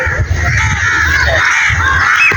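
Crows cawing over a rural village path under the sun, with several harsh caws close by that overlap irregularly against an open outdoor background.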